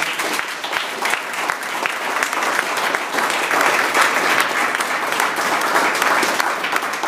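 Warm, steady applause from an audience honoring a woman for her dedication, many hands clapping continuously at a moderate distance, with no voices over it.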